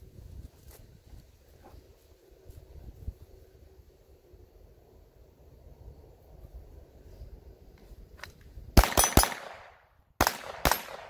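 A Tactical Solutions TSG-22 .22 rifle fired outdoors at a range, with a quick cluster of sharp cracks followed by a short pause and another pair, after a long stretch of quiet wind noise.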